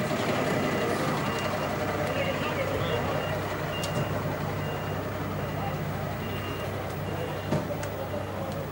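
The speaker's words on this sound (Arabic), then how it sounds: "تقترب عربيات تابعة لفوج إطفاء بيروت وللدفاع المدني من المكان" Beirut fire brigade and civil defence trucks approach a bomb-blast site at a vegetable market in Sin el Fil. A steady, heavy engine rumble fills the scene, with reversing-style beeps and a busy street din underneath.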